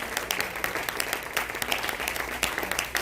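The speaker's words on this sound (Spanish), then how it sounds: "Fuertes aplausos para el Señor." A church congregation applauds together during a worship service, steady dense clapping that fills the room evenly from start to end with no talk over it.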